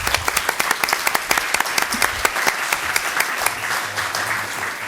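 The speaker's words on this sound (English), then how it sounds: "give them a round of applause really quickly" Audience applause at a school district board of trustees meeting, with dense clapping throughout and sharp individual claps standing out near the front, fading slightly toward the end.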